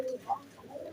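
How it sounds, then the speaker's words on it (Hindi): Pigeons kept in a coop setup with a chick being raised coo softly nearby, a short low throaty coo standing out near the start amid faint murmuring and background noise. "ये कबूतर है उस्ताद जी के"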